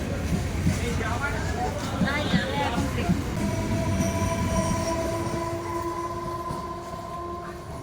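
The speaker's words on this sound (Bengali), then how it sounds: "ট্রেন ছেড়ে দিয়েছে" A train pulls away from Kulpi station in the rain, its wheels rumbling and clattering, then drawn-out metallic squeals ring steadily as it moves off. A voice is briefly heard early on.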